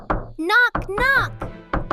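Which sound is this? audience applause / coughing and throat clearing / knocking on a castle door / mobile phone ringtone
knocking on a castle door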